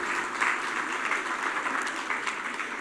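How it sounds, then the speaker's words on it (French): Audience applause at a French consulate's Bastille Day reception in Rabat, a steady, even wash of many hands clapping in a room, moderately loud and unbroken throughout. "Vous pouvez l'applaudir."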